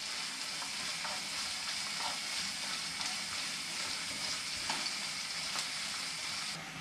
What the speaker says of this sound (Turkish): Bu salça ile birlikte tekrar bir kavuruyoruz bunu.